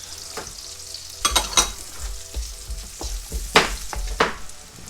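Beef cubes tossed into a hot pan with garlic for beef caldereta, sizzling and frying with several sharp bursts of stirring and scraping, close and moderately loud, no talk.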